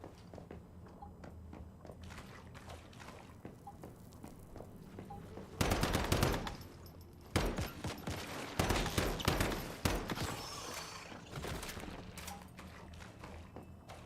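Assault rifle in the Once Human game firing short bursts: several loud, rapid clusters of shots break over a steady background of ambient noise and faint footsteps, with pauses between bursts.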